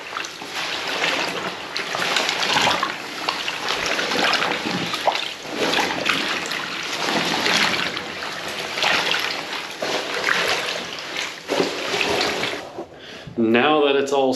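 A tent is worked and kneaded by hand in a tub of soaking cleaning solution, making continuous close sloshing, splashing and wet squelching with rhythmic surges, and a brief louder burst near the end.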